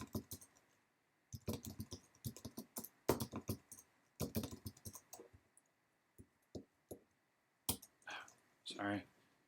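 Fingers clatter on a computer keyboard in quick irregular bursts of clicks, close and fairly quiet. A person speaks between and over some of the keystrokes.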